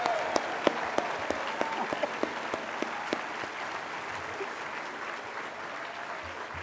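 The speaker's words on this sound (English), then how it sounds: "let's have one final round of applause for our class of" An audience at a college capping ceremony gives a round of applause for the class of 2012. A few sharp individual claps ring out over steady crowd clapping that carries on throughout and is fairly distant.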